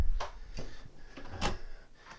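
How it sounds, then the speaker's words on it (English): Master stateroom door on a Mikelson 43 Generation II boat closing with several woody knocks and clicks spaced about half a second apart, near and moderately loud in a quiet cabin. "I'm going to close this master stateroom door."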